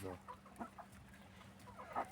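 A chicken gives a few short, soft clucks at close range, faint and brief, heard against a quiet background.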